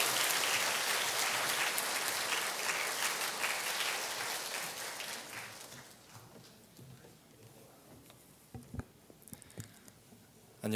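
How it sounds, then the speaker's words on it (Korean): A church congregation at a Sunday service bursts into strong applause that is dense and loud at first, then thins out over several seconds into scattered claps and small room noises. "잠깐 힘찬 박수 부탁드립니다"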